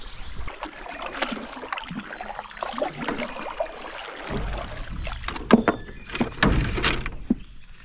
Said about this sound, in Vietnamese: Và bây giờ dắt cái ghe này xuống thôi.